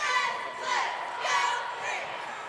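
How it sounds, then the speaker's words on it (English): Crowd murmur and cheering at a high school boys basketball game before tip-off, a broad steady wash of voices swelling and easing. "the crowd continues to file in"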